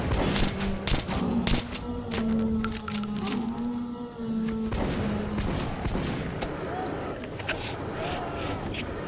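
Gunfire in Metro 2033 Redux on PS4 sounds as frantic, rapid shots and impacts mixed with loud game noise, continuous and dense throughout, with someone talking over it.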